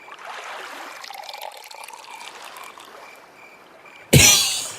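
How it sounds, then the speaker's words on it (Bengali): Liquid medicine trickles softly into a village pond in a cartoon, a faint running pour that fades, then a sudden loud splash near the end. "এই কর্তাবাবুর কথা মতো এখানে ওষুধ ঢেলে দিই।"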